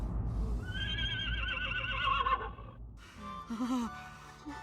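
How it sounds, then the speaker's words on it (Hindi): A horse neighs in a long, loud whinny with rising and falling pitch, followed after a brief pause by a second, shorter whinny, set in a costumed historical drama scene with no one speaking over it. "आपने आदेश दिया और घोड़े के हिननाने की आवाज?"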